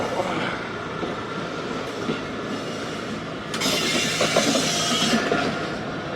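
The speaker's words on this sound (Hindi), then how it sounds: "लूपिंग पास हो रही है 40 डाउन जाफर एक्सप्रेस" The 40 Down Jaffar Express from Peshawar to Quetta rumbles past on a loop line, a steady close clatter of wheels on rails growing louder and more rattling in the second half.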